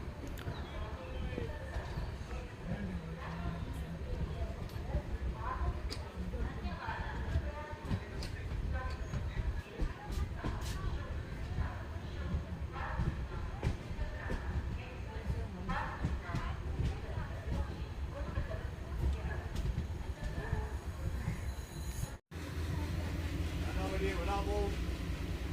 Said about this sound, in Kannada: ನಮ್ಮ ಟ್ರೈನ್ ಈಗ ಎಂಟ್ರಿ ಆಗ್ತಿದೆ ಲೋಂಡಾ ಜಂಕ್ಷನ್ಗೆ